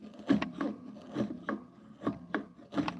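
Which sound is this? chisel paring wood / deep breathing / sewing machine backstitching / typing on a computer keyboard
chisel paring wood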